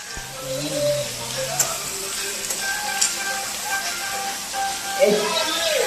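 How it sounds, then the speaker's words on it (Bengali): Fish frying in a pan gives off a steady, bright sizzle that runs throughout, with faint voices and other household sounds in the background. "মাছ ভাজা কমপ্লিট মাছ এখন তুলবো"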